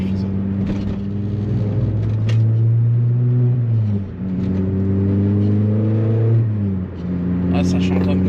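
A Peugeot 206 RC naturally aspirated hatchback engine revs up and down in repeated rising and falling sweeps, a loud close rasp heard from inside the car, with brief pauses between pulls.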